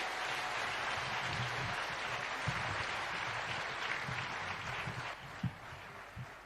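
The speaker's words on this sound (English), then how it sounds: "help me with applause to welcome the President of the Republic of Kenya, Dr. William Samoei Ruto." Crowd applause welcoming the President of Kenya at a national address, a dense steady wash of clapping throughout with a few louder isolated claps near the end.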